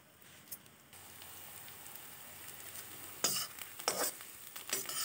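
Boiled potatoes are mashed in a pan, starting with a low sizzle that turns into loud, close scraping and squelching strokes toward the end.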